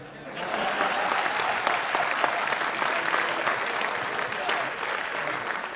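Steady audience applause at a Hindi comic poetry recital, a continuous even patter of many hands, moderately close and unbroken throughout with no talking over it.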